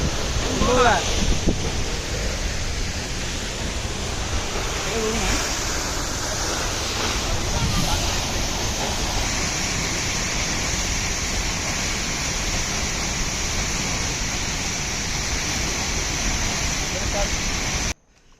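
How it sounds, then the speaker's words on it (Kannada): The Simbola waterfall near Belagavi in Karnataka's Western Ghats gives off a loud, constant broadband roar of falling water, mixed with wind buffeting the microphone, and brief voices in the first seconds. "ಸಿಂಬೋಲ ವಾಟರ್ ಫಾಲ್ಸ್."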